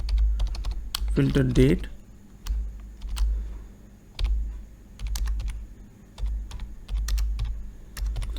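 Computer keyboard keys clack in quick bursts of typing, close and clear, with a short spoken word briefly interrupting the rhythm.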